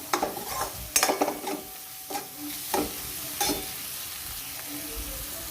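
Spice paste roasting in oil over a low gas flame for a Gujarati chora (black-eyed pea) curry, with a steady low sizzle broken by repeated scraping strokes of a spoon in the pan, close and clear with no talking.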